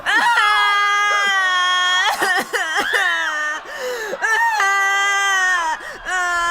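Colonists waking in cryo chambers scream and groan, with loud, sustained anguished wails and cries rising and breaking, overlapping voices close by.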